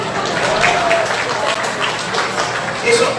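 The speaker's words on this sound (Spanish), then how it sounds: "¿Eso es un aplauso para las chicas o qué?" An audience at a public forum talk in Lima, Peru breaks into applause, a moderately loud wash of clapping with voices mixed in, swelling slightly toward the end.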